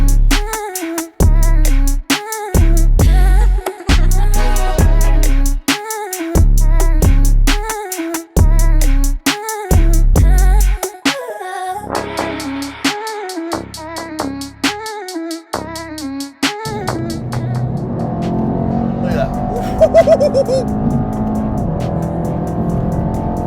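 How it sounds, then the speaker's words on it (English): A Mercedes E63 AMG-S doing donuts, its engine roaring loud and close with sharp rhythmic rev surges and bouncing limiter bursts, then settling into a rougher, squealing, washier drone near the end. "Let's go do some donuts."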